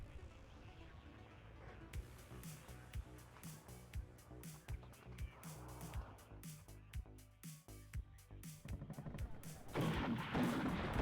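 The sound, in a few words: BMP infantry fighting vehicles firing in WARNO video game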